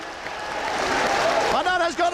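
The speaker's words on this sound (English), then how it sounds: "And that has got the crowd on their feet." Football crowd at a Stockport County match roaring and applauding after a goal, a broad swelling wash of cheering under a commentator's voice.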